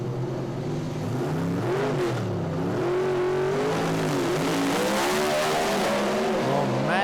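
Two Pro Stock drag racing cars launch down the strip at Willowbank Raceway's New Year Thunder, engines roaring loud and close as pitch climbs in rapid rising gear sweeps.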